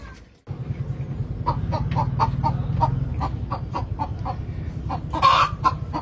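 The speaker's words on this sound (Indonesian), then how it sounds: "ceker-cekeran ayam di kandang." Chickens in a backyard coop cluck close by, a steady run of short, rhythmic clucks over a low murmur, with a louder squawk toward the end.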